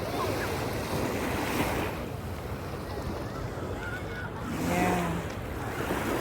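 Strong sea waves rolling and crashing at the shore in Fahaheel, Kuwait, a continuous loud surf roar mixed with heavy wind buffeting the microphone throughout.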